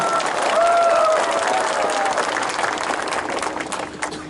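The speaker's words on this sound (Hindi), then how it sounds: "आप अपने आप को भी थोड़ा सा ताली देकर अपने आप को भी क्रेडिट लीजिए" A large outdoor political rally crowd in Tripura claps loudly and continuously, a dense wash of applause with a few voices and whistles mixed in, tapering slightly toward the end.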